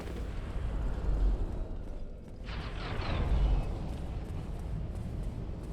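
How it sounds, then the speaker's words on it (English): A loud explosion in Dark Souls Remastered near a Firebomb Giant, a heavy rumbling roar that swells and bursts in the middle before settling back into a continuous low, dense rumble. "Hear the world's loudest explosion."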